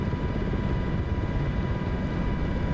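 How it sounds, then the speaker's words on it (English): Steady, loud rotor drone from an MH-60 helicopter in a flight simulator game, working hard to arrest a rapid descent during a sea rescue, a continuous broadband roar with no talking. "you can hear the rotors trying to overcome that enormous downwards momentum"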